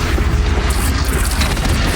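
A bridge in Horizon Zero Dawn is shot down and collapses, giving a sustained, loud, rumbling boom with heavy low-end crashing throughout, with no talk.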